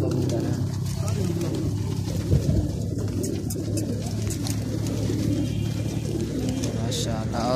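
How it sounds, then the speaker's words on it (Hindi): Pigeons coo softly and repeatedly in a loft or aviary, their low calls layered under someone talking in Hindi throughout. "सब कबूतर हैं।"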